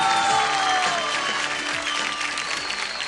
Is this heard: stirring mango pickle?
no